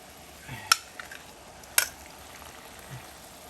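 Halibut fillet pan-searing on a stovetop with black pepper and parsley, giving a quiet, steady sizzle broken by two sharp utensil clicks against the pan.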